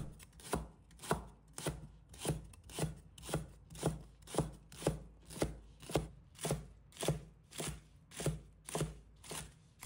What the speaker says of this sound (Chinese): 准备一把蒜苗，把它切成小段